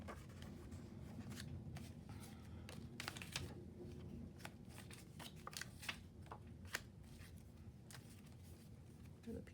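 Plastic bits from leftover mail rustle and click as they are sorted by hand, quiet, close and crinkly with frequent sharp ticks, under occasional speech.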